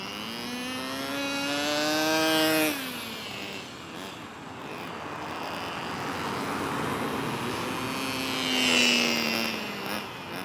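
A Kyosho Nitro Mini RC car's small nitro engine screams at full throttle, its whine climbing in pitch for about two seconds and then dropping away, followed by a fainter second high-pitched pass near the end.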